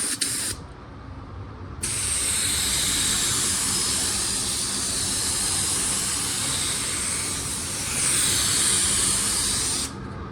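Spray gun laying down a first paint coat on a car hood during a smart repair blend along a body line; a loud, close, steady hiss of spraying air running almost continuously after a brief pause, with a short gap near the end.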